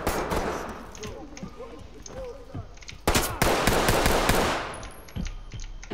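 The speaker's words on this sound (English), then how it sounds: "Shots fired, shots fired." Rapid gunfire bursts in the tactical shooter Ready or Not, loud and close, with an especially heavy sustained volley midway, mixed with radio-style team callouts.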